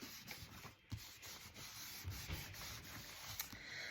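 A rag rubs firmly back and forth across a surface in a small recycled craft project, giving a close, continuous scuffing rasp with a few sharper strokes.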